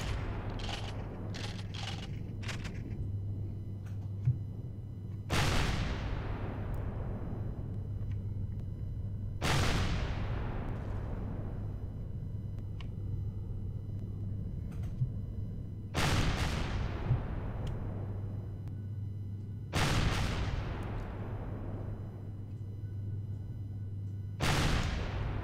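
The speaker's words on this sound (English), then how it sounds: "Bullets bouncing off my hull." Enemy shots hit a spaceship hull in the game Empyrion: a quick cluster of sharp impacts, then four heavy booming hits spaced several seconds apart, each ringing out in a long metallic decay over a low steady engine hum.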